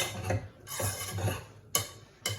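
Macho peas with smoked paprika being mixed in a pot, a few scraping, clinking strokes of a utensil against the pan at an uneven rhythm, fairly quiet and close.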